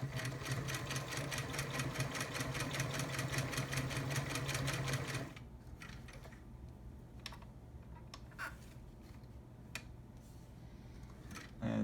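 A vintage Singer Stylist 513 sewing machine stitches denim with a regular needle in a fast, steady mechanical chatter for about five seconds, close and loud, then stops, leaving quiet room sound with a few small clicks.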